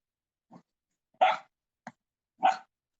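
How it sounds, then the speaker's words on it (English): Dogs playing and squabbling over a toy: four short bursts of barking and growling, two louder yaps among softer grunts, close by with silence between. "my dogs they're teasing each other. They'll take something and they keep fighting over it"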